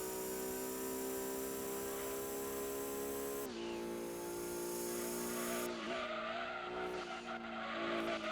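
Engine drone and squealing tyres from a car drifting in the Gran Turismo 2 video game, a sustained loud whine that shifts pitch abruptly, with skid noise breaking up toward the end.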